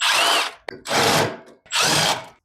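A power drill spins bolts out from underneath a Murray go kart during a Lifan motor install, in three loud, close bursts of about half a second each with short pauses between them.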